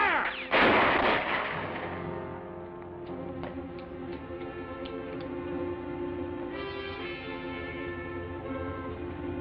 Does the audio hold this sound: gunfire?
yes